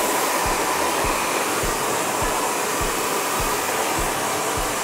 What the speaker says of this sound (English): you're just kind of wrapping it around the head and blow drying the hair shaft down in the direction that it naturally grows